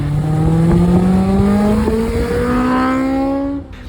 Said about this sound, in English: So you guys know, I put that exhaust on. It is just so loud.